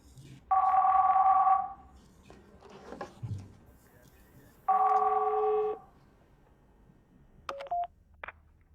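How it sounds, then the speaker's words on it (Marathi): A telephone rings in two long electronic bursts separated by a pause, fairly loud and close, with brief beeps and short sounds near the end. "अरे फोन उचल"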